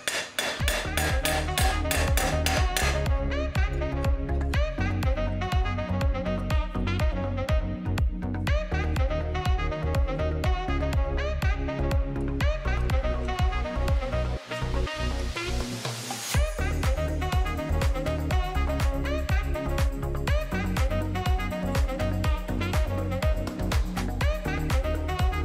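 A soft-faced hammer strikes sheet metal held in a vise against a hardwood block in a fast, steady rhythm, ringing sharply, with a brief pause partway through before the pounding resumes.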